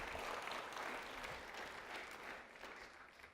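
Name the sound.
applause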